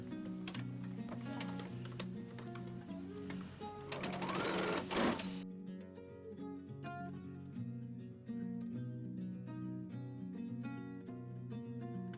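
A sewing machine stitches a seam across the bottom edge of a satin halter dress. It runs in a fast, steady, even rhythm, close and clear, with a short burst of louder rustling in the middle.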